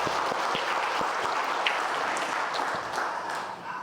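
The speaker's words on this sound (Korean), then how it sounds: "우리 박수로 감사합니다." Church congregation applauding the Galilee choir after a hymn at a Sunday service, a soft, steady patter of many hands with a few distinct nearer claps, fading slightly at the end.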